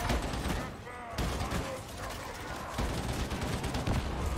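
Enemies fire sustained, dense gunfire in Warhammer 40K Darktide, a loud continuous rattle of overlapping shots and bursts filling the whole stretch, with a voice talking faintly underneath.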